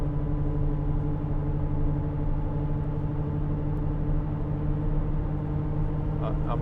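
A steady, droning hum from a worn wheel bearing on a 2008 Land Rover Discovery 3 2.7 TDV6 with a six-speed gearbox while it drives, blended with constant road and engine noise inside the cabin.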